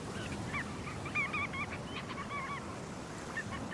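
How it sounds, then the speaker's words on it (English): Large mixed flocks of godwits and red knots calling together on a sandy shore, a continuous busy chorus of overlapping chattering calls over steady surf noise, with no voices. "Enormous flocks of larger godwits join the red knots, also here to fuel up before the long journey north"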